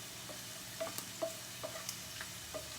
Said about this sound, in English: meanwhile I'm just going to stir in my vegetables here